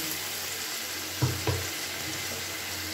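Mustard and poppy seed paste drops into a pan of frying flat beans, giving two soft thuds over a steady, moderately loud sizzle and hiss with no voices.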